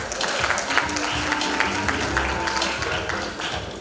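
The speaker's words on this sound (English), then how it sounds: "Big round of applause," Applause at a youth business awards ceremony, a dense, sustained patter of clapping from a large audience, with a faint tonal hum or music running underneath.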